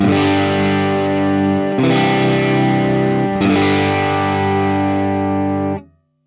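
Distorted electric guitar through an effects pedal, the original pedal tone used as reference for a Quad Cortex capture: three sustained chords, each struck and held, loud and alone, ending abruptly.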